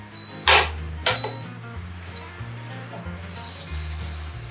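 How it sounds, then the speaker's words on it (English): Four tablespoons of butter go into a pan for a sauce, with two sharp hissing bursts as it hits the heat, then a quieter sizzle and a broad spray-like hiss rising near the end over background music. "I am adding my butter, which is 4 tablespoons of butter."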